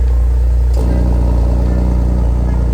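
A BMW E90 328i engine runs steadily and loud, its deep exhaust note stepping up into a fuller, throatier drone partway through as the exhaust valve opens, with no voices.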